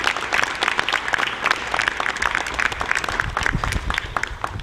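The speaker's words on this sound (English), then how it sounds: "I would like everybody to give them a round of applause" An assembled crowd at a military school's first formation gives school staff a dense, sustained round of applause, loud and continuous with no talking.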